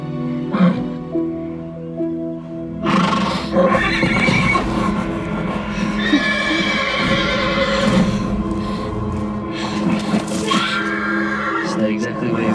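Horse whinnying and neighing in loud bursts, with hooves clopping and shuffling nearby, while people talk over and between the calls.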